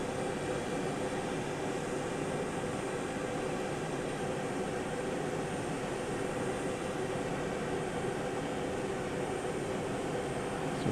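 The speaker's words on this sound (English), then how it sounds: "There's an incoming flight for you." Jet aircraft arriving at Houston IAH airport on a hazy morning: a constant, broad engine roar, moderately distant and unchanging throughout, with no voices.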